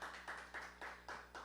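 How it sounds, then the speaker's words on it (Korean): A church congregation at a Friday prayer meeting claps along in a steady, even rhythm, a run of about six soft, quiet claps. "박수 한번 쳐봐요"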